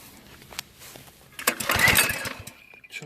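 CT200U mini bike engine fitted with a replacement carburetor fires up roughly near 1.5 s, sputters loudly for about a second, then dies away; a few small knocks and clicks come before and after.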